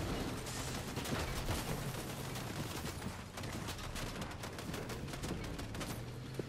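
Rapid gunfire crackles nonstop in a Fortnite squad match during the Deadpool & Wolverine season, dense overlapping shots from several weapons rattling steadily throughout at moderate loudness.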